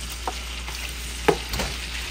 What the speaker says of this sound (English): Now we're going to fry it. I typically fry it a little bit.